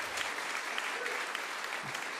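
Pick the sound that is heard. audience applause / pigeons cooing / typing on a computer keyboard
audience applause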